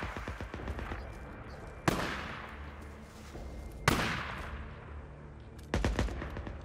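Gunshots in the zombie game Days Gone ring out, three loud separate blasts about two seconds apart with ringing tails, over a quieter burst of rapid fire at the start.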